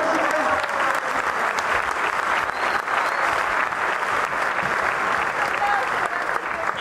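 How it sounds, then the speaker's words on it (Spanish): Steady applause from an audience fills the space, dense clapping with a few cheers mixed in, continuous from start to finish. "¡Aplausos!"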